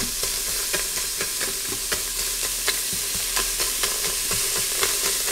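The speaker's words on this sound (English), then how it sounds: "I like to saute up my onions a little bit." Hamburger and onions sautéing in a pot for goulash, a steady loud sizzle with scattered stirring scrapes and clicks throughout, no voices.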